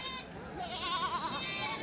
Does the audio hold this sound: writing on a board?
no